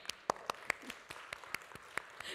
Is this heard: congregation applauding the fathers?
yes